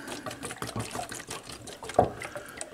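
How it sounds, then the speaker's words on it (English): Liquid poured from a 32-ounce container into another vessel, a steady splashing trickle lasting a few seconds with a brief louder gush near the end and no talking. "I'm going to pour most of this container in here."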